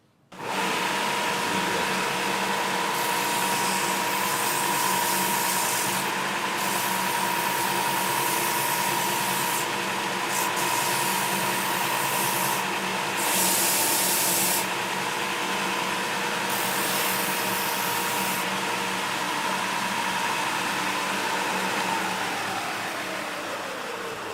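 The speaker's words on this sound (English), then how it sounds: "we want to take it first to the belt sander and get everything flat and even" Belt sander whirring continuously as the edges of a multi-layered custom leather shoulder holster are sanded flat, a loud steady motor whine with brief rasping variations as the leather presses against the belt, no voices.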